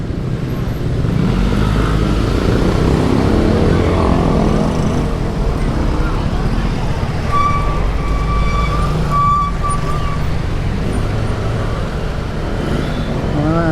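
Dense, congested road traffic with trucks, cars and motorcycles, a steady loud engine rumble throughout and a few brief horn-like tones partway through.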